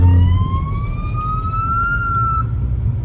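A single rising police car siren tone, loud and steady, sweeping upward over a low engine rumble before cutting off.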